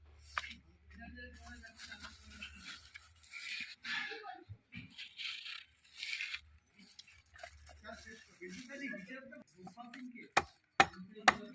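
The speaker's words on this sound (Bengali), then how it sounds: "আর এখন এই রুই মাছটা কেটে নেব।" A live rohu fish is being cut. Quiet talking comes first, then three sharp, close knife chops land in quick succession.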